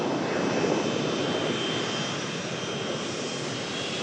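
A Jet2 Boeing 757 slowly taxis back at Manchester Airport after a hydraulic-failure emergency landing on runway 23L, its jet engines giving a steady, broad, moderately distant roar that eases slightly toward the end.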